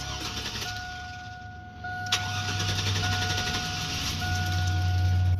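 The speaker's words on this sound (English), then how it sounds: "I'm gonna start it for y'all and let y'all listen. It is running really rough." A Chevy Silverado pickup engine cranks hard and catches, then idles roughly with a steady low rumble and faint tonal whine, fairly close; it has a fuel pressure regulator fault.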